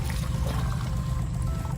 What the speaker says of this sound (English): I'm gonna pour this dirty water inside of here